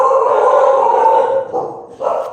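Dogs in a home give a sustained, loud, whining or howling vocalization that wavers and then breaks into shorter yips near the end, close by.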